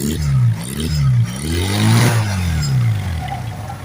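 A Honda CD200 Roadmaster motorcycle with its original silencer revs up and down several times close by, a throaty exhaust note swelling and dropping before settling back toward idle.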